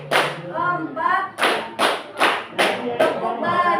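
Teachers at a school session clap together in a quick counted series of distinct sharp claps, each set off by a woman counting aloud between them.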